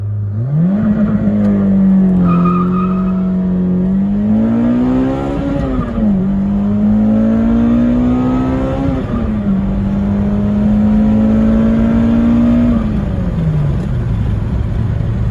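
A 2005 Toyota Corolla XRS with an R9K reflash tune revs hard as its tires squeal and skid, a loud, close, continuous engine drone whose pitch climbs and dips over several gear-like swells before winding down.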